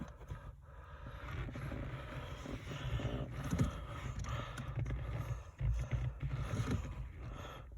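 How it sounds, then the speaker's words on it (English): Fuel pump of a Porsche Boxster 986 running during an in-car test, a steady, quiet mechanical whir that holds for the whole stretch with faint background rattles and no talk. "pop the other end into the top slot, which will activate the fuel pump, and then we can test it"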